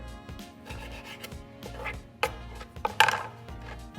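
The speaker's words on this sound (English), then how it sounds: "We're gonna trim it a little bit." A knife trims a ribeye steak on a board, making soft rubbing, scraping strokes up close, with a couple of sharper cuts near the end and no speech.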